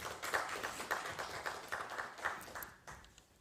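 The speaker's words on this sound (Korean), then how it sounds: "유미란 선생님께 다시 한번 큰 박수 부탁드리겠습니다." A small audience at a Korean education briefing claps for a presenter, a light, fairly faint patter of hand claps with a few distinct beats that trails off at the end.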